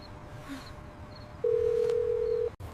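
A phone call is placed to a mother on a mobile phone: a single steady tone comes in midway, holds for about a second, then cuts off abruptly, with quiet room noise before it.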